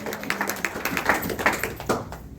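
A church congregation applauds the word of the Lord, a dense burst of clapping from many hands that fades within a couple of seconds, with no talk.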